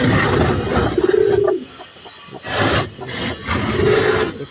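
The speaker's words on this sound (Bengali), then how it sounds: "এই কবুতরটা এই যে ডাক দেখেন" Pigeon cooing nearby, a few low throaty rolling coos in short bursts with faint background noise and no talk.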